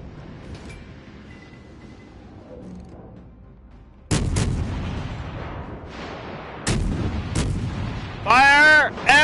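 Warship guns firing in the naval video game World of Warships: Legends, heard as heavy booming salvos that crash in suddenly after a quiet stretch, then several more loud blasts, with a shrill warbling tone at the end.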